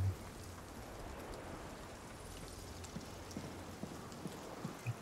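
Rain falling in the video game Nightingale, a steady, fairly quiet wash of drops with a few faint patters standing out, continuous and even throughout with no talking.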